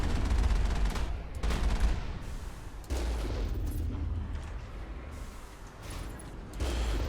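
Geth turrets in the Mass Effect game fire bursts of rapid automatic gunfire, with loud repeated volleys and booming impacts that cut in and out over several seconds.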